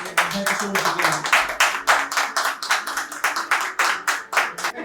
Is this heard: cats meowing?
no